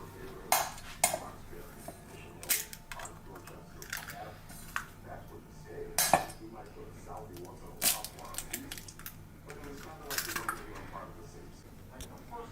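Grade A cage-free eggs cracked into a bowl, a series of sharp taps and clinks of shell and dish spaced out, with a person talking between them.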